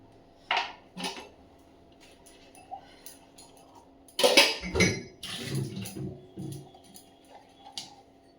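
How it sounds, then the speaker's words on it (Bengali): Cups are washed in a home kitchen, with scattered clinks of ceramic, a burst of running water and clattering dishes in the middle, and occasional knocks against a quiet background. "কাপ টাপগুলো একটুখানি ধুয়ে নিই"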